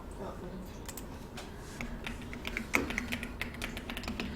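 Keys on a computer keyboard click in scattered taps during a PowerPoint lesson, getting busier and more rhythmic toward the end, faint and close under soft room noise.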